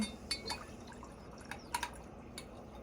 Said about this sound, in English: we're gonna add water